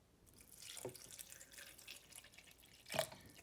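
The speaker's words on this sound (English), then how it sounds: "just go ahead and pour some water in there" Water is poured into a blender holding wheatgrass, giving soft, faint trickling and splashing with two brief louder splashes near the start and end, and no voices.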